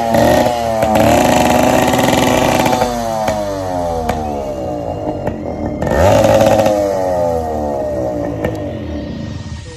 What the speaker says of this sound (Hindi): आपां इहनूं लाइव स्टार्ट करांगे अज्ज ते तुहानूं दिखाना इस यामे दी आवाज़